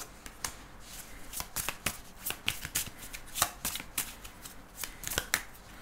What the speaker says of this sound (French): Oups là, les cartes volent.